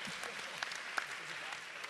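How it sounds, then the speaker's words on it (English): Faint, steady applause from an audience at a kids-only press conference, an even wash of clapping with a couple of sharper individual claps, heard at a distance. "How about a big round of applause for Christopher?"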